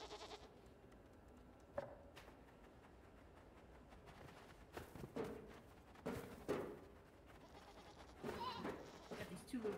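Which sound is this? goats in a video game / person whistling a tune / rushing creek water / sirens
goats in a video game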